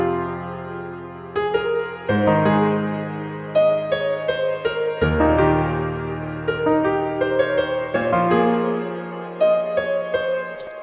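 Bright digital piano from a VST plugin playing full sustained chords with busy melodic notes on top, dense and clear, alone without any voices.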